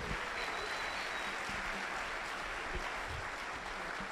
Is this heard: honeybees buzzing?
no